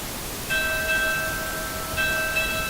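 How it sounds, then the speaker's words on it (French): A ship's bell in World of Warcraft rings twice, each strike a clear, sustained metallic tone several seconds apart over a soft ambient background hiss. "Ça, c'est la cloche des bateaux."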